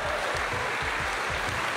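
Audience at a Tahitian sports awards evening claps in steady, dense applause, loud and continuous from start to finish with no talk over it.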